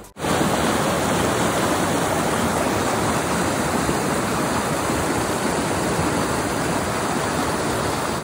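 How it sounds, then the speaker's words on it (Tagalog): Flowing stream water rushes in a steady, continuous wash of noise, close and fairly loud, with no voices. "At ang sarap nitong pakinggan yung agos ng tubig."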